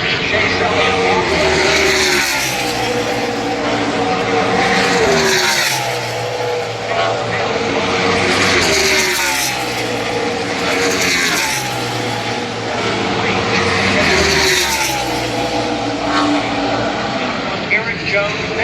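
NASCAR stock car engine noise at Pocono Raceway, a loud continuous roar with rising and falling pitch sweeps as cars pass, running under commentary throughout.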